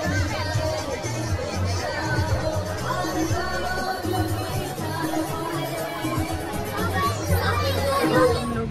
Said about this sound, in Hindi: बहुत ज़्यादा भीड़ है संडे है और सबको अंजलि देने आए हैं इसीलिए शायद बहुत ज़्यादा भीड़ है